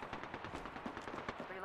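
Rapid automatic gunfire in Apex Legends, a dense burst of closely spaced shots running throughout, fairly faint.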